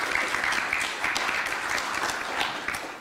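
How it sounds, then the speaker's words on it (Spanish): Warm applause from an audience at a panel session, welcoming the moderator as she takes the stage, steady clapping with a few louder individual claps standing out near the front. "Damos la bienvenida con un voto de aplausos a la señora María del Carmen Sacasa de Ventura"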